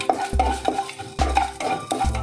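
Whole spices (cinnamon, cloves, bay leaf) being sautéed in a pan for tomato rice: a spoon scrapes and stirs in repeated strokes, each pass clattering against the metal, with a soft sizzle underneath and no voices.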